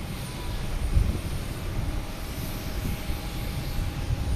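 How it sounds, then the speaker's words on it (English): A JetBlue jet airliner sits on the runway at Boston Logan Airport, its engines giving off a steady, fairly distant broadband roar that holds even throughout, with no talk over it. "We have a JetBlue on that runway right now, heading to Heathrow. So we'll see if that takes off."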